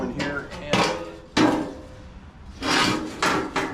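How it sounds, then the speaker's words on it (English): Hammer and dolly work on the body flange of a 1955 Chevy, a series of sharp metallic taps and scraping knocks at irregular intervals, fairly close, with a pause in the middle and no talking. "I'm going to go through here and hammer and dolly the flange all the way around"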